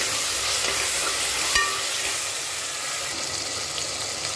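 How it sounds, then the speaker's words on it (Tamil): Ginger garlic paste sautés in a pan for a homemade mutton biryani, giving a steady, close sizzling hiss with faint stirring scrapes throughout and no talking. "இஞ்சி பூண்டு பேஸ்ட்டு நல்லா பச்சை வாசனை போகிற வரைக்கும் நல்லா வதங்கிட்டுருக்கு"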